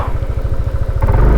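A Yamaha NMAX v2 scooter engine runs close by with a steady, rapid low throb, briefly picking up in intensity toward the end of the short burst, on a rural road project route.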